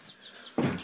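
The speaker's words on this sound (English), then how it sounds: "Mini bantams in here." Small mini bantam chickens in a backyard coop give a few faint chirps and clucks, followed by a louder, closer burst of clucking and rustling near the end.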